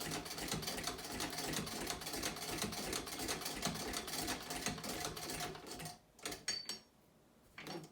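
Vintage Singer VS3 sewing machine stitches steadily through many layers of leather, a loud continuous rapid clatter that slows and breaks into short bursts near the end.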